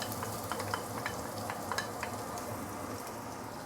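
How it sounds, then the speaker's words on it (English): Ginger, shallot, garlic and fresh coriander roots sauté in heated vegetable oil, giving a soft, steady sizzle with faint crackles and light stirring, quiet and continuous with no voices. "Saute it for a while."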